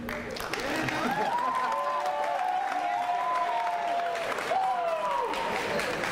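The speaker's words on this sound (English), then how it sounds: "The more you cheer, the less we speak." Crowd cheering and applause at a 2018 university convocation at Lindenwood University-Belleville, a steady, dense roar that stays loud through the whole stretch, with high whoops and shouts rising above it.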